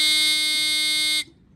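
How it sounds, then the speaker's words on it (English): Buzzer of a Chloride Pyrotector 3077ARF5 alarm sounding, a loud, steady, harsh electronic tone held for over a second, then cutting off sharply to near silence. "when the alarm went off, whenever the buzzer was sounding, it turned red"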